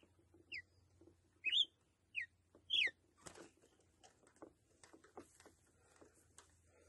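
Red-cowled cardinal (galo de campina) singing outdoors, four short bright whistled phrases in the first three seconds, followed by fainter scattered calls and clicks over a low steady hum.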